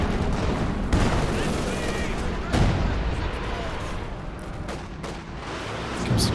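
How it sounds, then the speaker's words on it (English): Katyusha rocket artillery in Company of Heroes 2 launches a loud salvo of rapid booming blasts and rumbling impacts, in a dense wash of battlefield gunfire with a couple of sharp bursts. "Comes the Katyusha."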